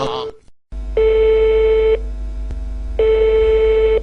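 Two long, loud telephone ring-back tones sound in a steady pattern during a prank call to a water delivery order line, preceded by a brief electronic burst and a moment of silence.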